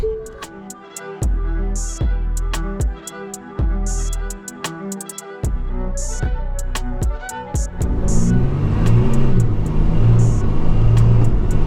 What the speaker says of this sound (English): Flat to the floor. You gotta floor it up that.